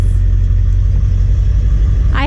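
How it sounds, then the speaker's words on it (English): A broken-down truck's engine runs as the truck is pulled forward a little, with its hood up, giving a loud, steady low rumble close by and a brief higher squeal at the very end. "So Dean just wants me to pull the truck forward a little bit"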